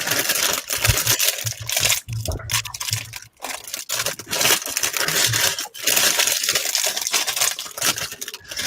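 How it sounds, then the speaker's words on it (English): A plastic bag being handled during a LEGO 1989 Batmobile build, with continuous crinkling and rustling close to the microphone and irregular sharp crackles throughout, no speech. "Well, a plastic bag."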